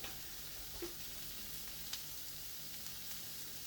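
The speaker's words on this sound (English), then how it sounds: "we're going to toast our bun. In the same pan" A burger bun toasting face-down in a hot frying pan, giving a soft, steady sizzle throughout with a couple of faint clicks, fairly quiet and without talk.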